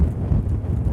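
Strong wind at a volcano buffets the microphone in a steady, close, low rumbling roar with no break, and no one speaks over it.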